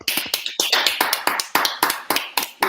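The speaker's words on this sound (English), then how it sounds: "I don't know what is happening to this round of applause" A small audience applauding, with roughly a dozen crisp, close hand claps in an uneven rhythm and no talking over them.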